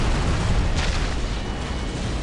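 Bombs go off in the Warhammer 40k: Dawn of War video game, a loud, dense, continuous roar of rumbling blasts with no distinct gaps and no speech.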